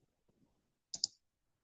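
A computer mouse gives a quick double click, two crisp taps close together, faint and alone after near silence.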